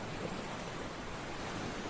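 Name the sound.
sound of water waves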